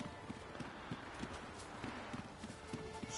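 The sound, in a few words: horse hooves clopping, from a video game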